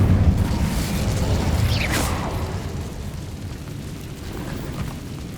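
An Incendio fire spell is cast in Hogwarts Legacy, producing a loud whooshing burst of flame with a rising swish, then a rumbling roar that slowly fades.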